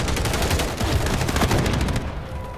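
Rapid automatic gunfire in Call of Duty: Modern Warfare III, a dense, loud burst of overlapping shots that runs continuously and tapers slightly at the end, with no talk over it.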